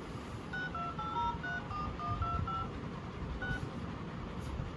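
A phone number is punched in on a telephone keypad: about a dozen quick DTMF tones beep in an uneven run, then a lone tone follows after a pause, all over a steady low background hum.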